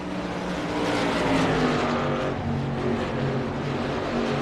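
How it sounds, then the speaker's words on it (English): Race cars on a track blip and rev their throttles, a continuous mid-distance engine drone rising and falling with no talk over it. "you can hear them guys really playing with them throttles right now"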